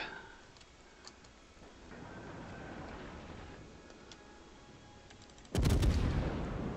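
Naval gunfire in World of Warships from the cruiser Saint Louis in battle against a Fletcher destroyer: faint ticking and distant thuds under a low rumble, then one loud, sudden broadband blast near the end that lingers.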